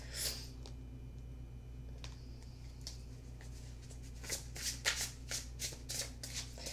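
Tarot cards being shuffled during a card reading, a few scattered riffles and then a fast run of crisp, papery flutters, heard close and with no talking over a low steady hum.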